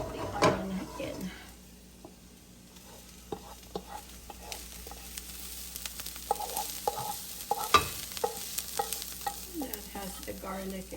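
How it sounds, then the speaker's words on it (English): Chopped onion hits a hot pan for beef goulash and is stirred, giving a soft, steady sizzle with scattered clicks and scrapes of the spoon, close and moderately quiet, with no talking. "And let's add the onion in"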